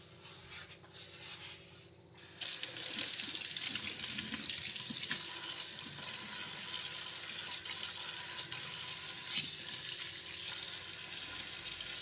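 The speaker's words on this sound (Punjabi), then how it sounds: "ਪਾਣੀ ਛੱਡ ਕੇ ਚੰਗੀ ਤਰ੍ਹਾਂ ਨਾਲ ਸਾਫ਼ ਕਰ ਦਾਂਗੇ ਜੀ" Tap water runs steadily into a kitchen sink while a blocked drain pipe is cleared after scrubbing with Vim; a quieter start gives way to a loud, continuous stream for most of the stretch.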